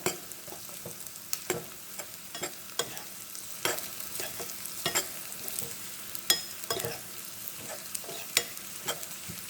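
Mutton chops fry in plenty of oil in a pan, a steady sizzle punctuated by frequent sharp scrapes and knocks of a spatula stirring and turning the meat, no talking.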